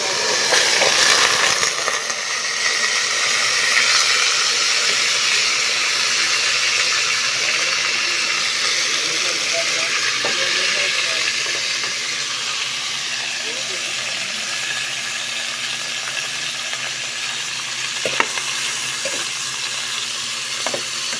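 Cooking oil sizzles in a pan while pork adobo is prepared, a steady loud hiss and crackle sustained throughout, easing slightly in the second half, with faint background voices.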